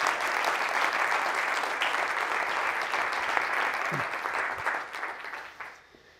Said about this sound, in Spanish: quiero darle un aplauso muy fuerte a todos esos padres que están luchando por sus hijos